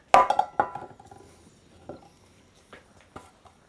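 A cooking pan for sausages is handled on a motorcycle camp burner, giving a couple of sharp metallic clanks up close followed by softer taps and scrapes.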